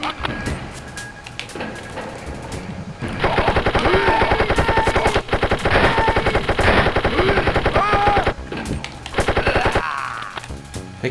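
Rapid automatic gunfire from shooting Nazis in the Wolfenstein video game, dense bursts of rattling shots that start moderate and grow louder, with brief pauses between volleys.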